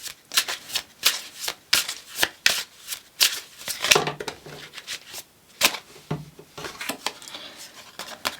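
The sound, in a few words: shuffling a deck of oracle cards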